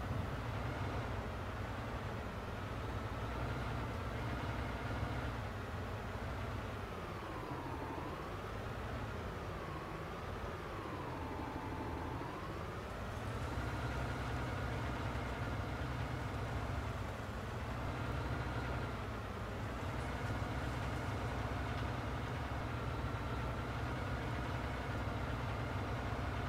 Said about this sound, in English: And now I have turned my tractor over.